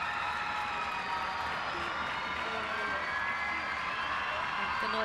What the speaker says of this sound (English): The noise you're hearing around the crowd is Argentina have arrived.